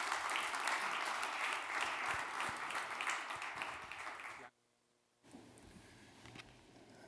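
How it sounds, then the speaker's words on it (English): A forum audience in Ljubljana claps for a speaker taking the stage, a sustained round of applause that cuts off abruptly, followed by quieter room noise. "Give him a big round of applause"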